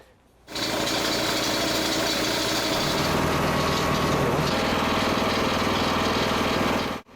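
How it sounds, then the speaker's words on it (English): Power tools run in the field while bolts are removed to swap a stump splitter blade for a concrete cracker blade, producing a loud, steady mechanical roar that starts abruptly, holds for several seconds and cuts off. "Power tools in the field make it very easy"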